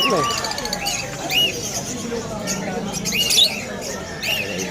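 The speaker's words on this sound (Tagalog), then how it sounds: "Ito na mga ibon ni Kokoy." Harsh squawks and chirps from many birds ring out over a busy background of murmuring voices and ambient bustle at a weekend pet market in Hulo, Malabon.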